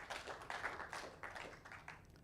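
Congregation clapping during a Christian church sermon, a short faint burst of uneven rhythmic claps heard at a distance.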